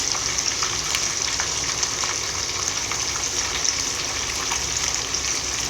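Snakehead fish deep-frying until crisp in fish sauce, giving a steady, loud, dense sizzle and crackle of hot oil that runs unbroken throughout with no talking.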